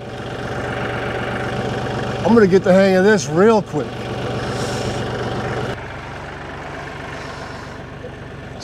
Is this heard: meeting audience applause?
no